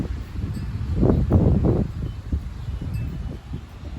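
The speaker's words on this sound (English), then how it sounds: "It's so windy." Strong gusting wind during a sudden storm, a broad rumbling roar that swells loudest around the middle and then settles into steady buffeting noise, close to the microphone with no talking.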